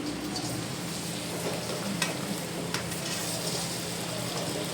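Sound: dates and raisins stirred in ghee in a pan

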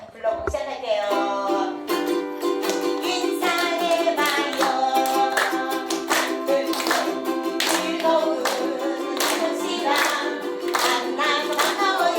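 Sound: group applause, people clapping

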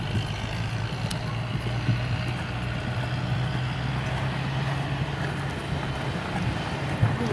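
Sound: horse hoofbeats at the canter

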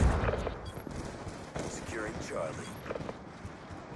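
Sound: sniper rifle gunfire in a video game

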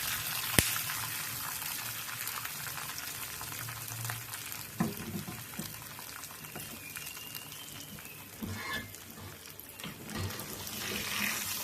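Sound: fried tempering added to temple-style pongal

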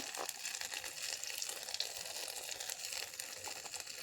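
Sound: frying chili paste, salt and turmeric

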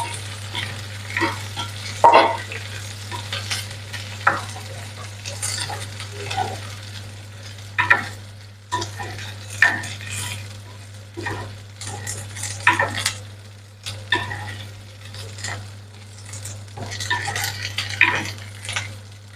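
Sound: onions and garlic sautéing and being stirred in a pan

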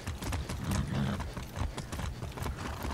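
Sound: horse hooves clip-clopping in video game Far Cry 6

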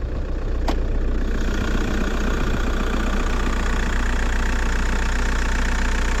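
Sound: diesel car engine idling

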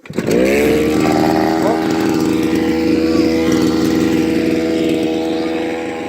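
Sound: petrol grass trimmer engine starting and running

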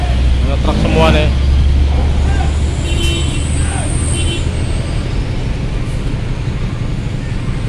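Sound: trucks at a ferry port dock

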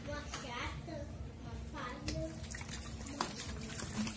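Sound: water being mixed by hand in a bucket

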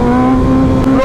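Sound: motorcycle engine revving for a wheelie, Hayabusa or Ninja ZX10R

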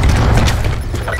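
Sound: cluster grenade explosion in Black Ops 4 video game

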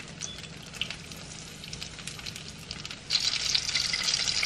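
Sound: corn dogs sizzling in frying oil

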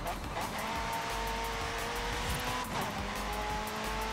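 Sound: car driving in video game Forza Horizon 5

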